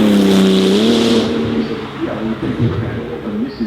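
A Lanzante road-converted Porsche 935 race car accelerates hard uphill, its loud engine note climbing through the gears before fading as it pulls away, with brief gear-change dips.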